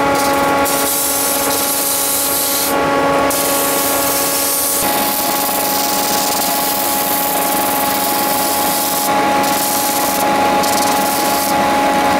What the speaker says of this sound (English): because I'm sanding fiberglass